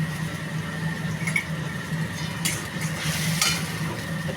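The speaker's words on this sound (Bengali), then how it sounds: "পেঁয়াজটা যাতে ভালো করে ভাজা হয়," Onions frying in a pan with chilli spice paste and a pinch of salt for a broccoli dish give a steady, close sizzle, with occasional brighter scraping bursts from stirring and no talking.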